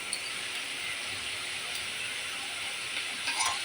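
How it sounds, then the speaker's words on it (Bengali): Ginger, garlic and green chili paste hits hot oil with onions for Bengali rohu fish kalia, giving a soft, steady hiss that runs evenly throughout at modest volume. "যখন একটু তেল ছাড়বে তখন আমি এর মধ্যে আদা রসুনের পেস্টটা দিয়ে দেব"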